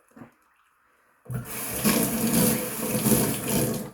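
Tap water suddenly starts running after a brief quiet moment, a steady close splashing stream while a 1924 Ever Ready safety razor is rinsed under it.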